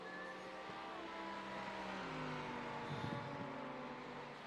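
An LMP prototype race car drives past on the track at Sebring during a 12-hour endurance race. Its engine note drones and shifts pitch as it goes by, fairly faint under steady track noise.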